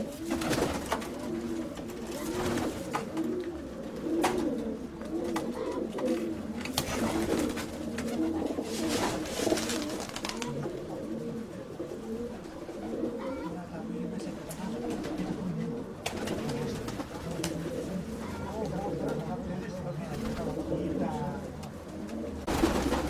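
Pigeons coo steadily and in layers throughout a pigeon festival in Kozani, Greece, held in February, with occasional wing flutters and background voices talking over the birds.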